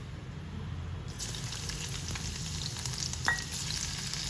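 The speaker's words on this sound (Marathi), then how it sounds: "आता हे तेल तापलंय, मग आपण लसूण घालूया" Garlic goes into hot oil while cooking a Maharashtrian banana-flower vegetable dish, and a steady close sizzle and crackle runs throughout, with a brief stirring clink partway through and no talking.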